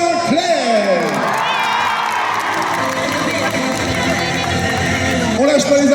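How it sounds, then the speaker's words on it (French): An audience cheers, whoops and claps at a live event as guests are introduced, a loud crowd roar filling the whole stretch while an amplified voice speaks over it. "Un tonnerre d'applaudissements s'il vous plaît pour Scarlett Sinclair."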